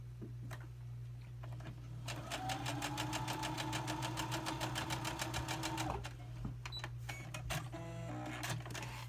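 A sewing machine stitches a line on a quilt block, running at a steady rapid clatter for about four seconds after a few faint clicks, then stopping into quiet handling noises.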